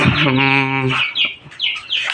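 Young quail chicks chirp in high, thin bursts near a pen of growing chicken chicks, following a louder low, droning tone at the start.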